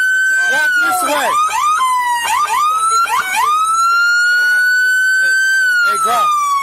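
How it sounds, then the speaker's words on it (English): A police siren wails loudly nearby during a traffic stop, its tone rising and falling continuously while shouting voices break in over it. "Hey, Graf, kill the sirens for me"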